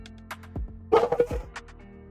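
A pet dog at home barks several times in a short burst, with sharp yips and a brief whimpering tone, close and fairly loud in a quiet room with no talking.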